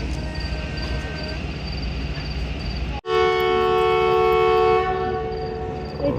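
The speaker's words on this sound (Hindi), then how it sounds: "इनिशियल डिपार्चर विसल हो गया है हाफजाबाद से।" The Rehman Baba Express sounds a long, loud departure whistle at Hafizabad station, a sustained steady tone over rumbling platform noise, following a brief sharp cut in the sound.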